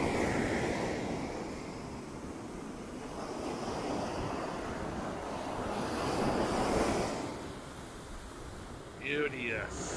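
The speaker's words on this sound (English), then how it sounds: "The waves are pretty big." Big ocean waves break on a white-sand beach with turquoise water, a steady broad roar of surf rising and falling, mixed with wind buffeting the microphone, and a brief faint voice near the end.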